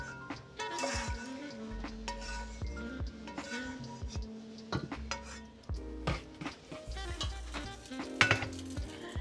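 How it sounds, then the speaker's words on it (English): Sauce poured onto cooked noodles in a skillet, with soft sizzling, stirring and clinks of utensils against the pan, close and fairly quiet, with no voices. "now that my noodles are done, I'm gonna dump my sauce in here"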